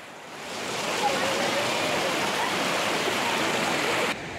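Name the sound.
mountain river flowing at Sittong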